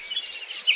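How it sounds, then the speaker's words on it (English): Himalayan whistling thrush (Myophonus temminckii) singing in Kashmir, a short bright run of clear high notes that carries steadily for under a second at moderate distance, with no voices. "The Himalayan whistling thrush, Myophonius temenkii."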